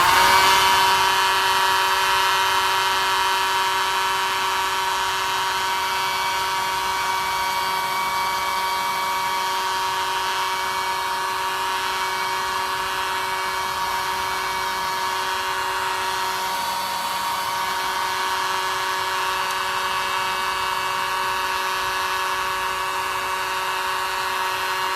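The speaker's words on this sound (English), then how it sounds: "I'm going to hit this one more time with the hair dryer again" A hair dryer blowing on an acrylic owl painting to dry the paint, a loud continuous whirring drone with a steady pitch that holds unchanged throughout, close to the microphone with no talking.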